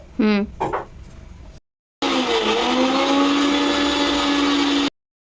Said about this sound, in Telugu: ధనియాలు జీలకర్ర కొంచెం అల్లం ముక్క ఇది ఎల్లుల్లిపాయ హాఫ్ ఎల్లుల్లిపాయ వేసాను పెద్ద దాంట్లో తీసి ఇవన్నీ ఇందులో వేసుకొని పౌడర్ చేయాలి